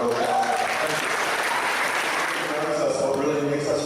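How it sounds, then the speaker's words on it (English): An audience gives sustained applause at a Reynolds community event, a steady wash of many hands clapping with some voices underneath. "So give yourself a big round of applause."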